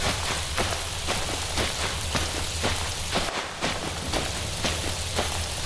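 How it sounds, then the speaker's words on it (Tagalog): Steady heavy rain pours down, drumming densely on a surface with a constant wash of drops and no voices. "lalong lumalakas ang ulan"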